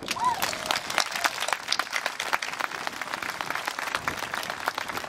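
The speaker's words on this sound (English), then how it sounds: "So give her a round of applause." Audience applause at an outdoor commemoration ceremony aboard the USS Midway in San Diego, with dense, steady clapping that holds evenly for the whole stretch and a brief voice near the start.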